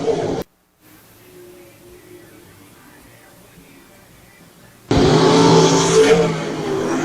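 360 sprint cars race around Brighton Speedway; a quieter stretch of distant engine drone and a commentator's voice gives way to a loud, close roar of engines for the final two seconds.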